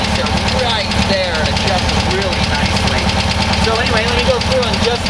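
A German air-cooled engine with dual carburetors idles at a steady, even rumble throughout, while someone talks over it the whole time.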